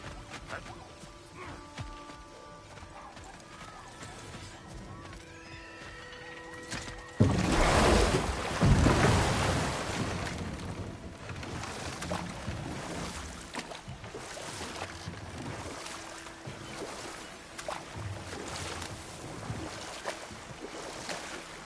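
A waterfall in the video game God of War Ragnarok surges in as a loud, broad rushing roar after quieter ambience, then keeps pouring steadily without a break.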